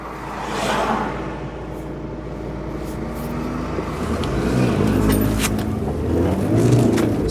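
A Rover 25 with an L-series engine accelerates hard from a standstill, a steady rising engine roar heard from inside the car with road and wind noise building over several seconds.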